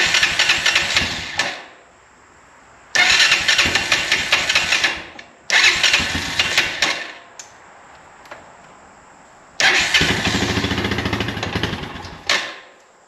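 An ATV engine with the choke pulled all the way up runs in four separate loud bursts of rough, buzzing revving, each cutting off abruptly into near silence between runs.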